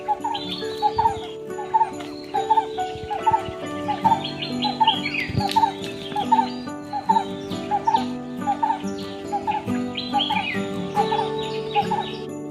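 A green bird gives repeated bright calls at a steady rhythm over a dense background of other birdsong and chirping in the Konkan countryside, fairly close and clear throughout.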